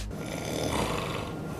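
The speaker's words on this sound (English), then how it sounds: "the cacophony of snoring is becoming orchestral" Snoring from sleepers in a shared room, a loud close rasping snore that swells and holds with a continuous rough breathy drone, heard alone without talk.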